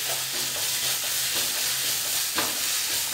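Masala of ginger, garlic, coriander seeds and dried coconut fries in a pan for mushroom curry, a continuous loud sizzle broken by the scrape of stirring, with no talking.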